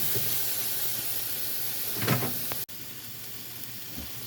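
Cajun trinity vegetables dumped into a browning roux for a catfish courtbouillon, giving a steady close sizzle and hiss with a brief louder burst of frying noise partway through.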